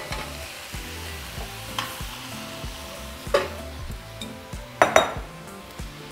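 Beef being stirred into a pan of sizzling chiles and tomatoes, with steady frying crackle, repeated scraping stir strokes and a few sharper utensil clinks against the pan.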